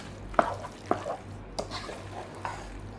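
Mango pickle for Onam being stirred in a pan, with several distinct spoon knocks and scrapes against the metal over a faint sizzle, close and sparse, no speech.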